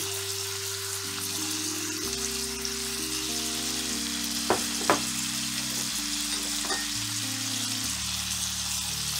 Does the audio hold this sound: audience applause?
no